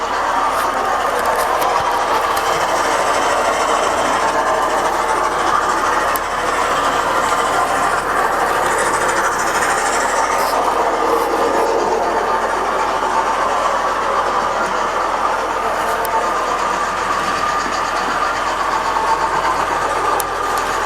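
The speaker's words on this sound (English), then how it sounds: "that's an analog loco going" A model railway locomotive runs steadily on its track with a continuous whirring, rattling hum. The sound holds at a fairly even level throughout, and no voices are heard.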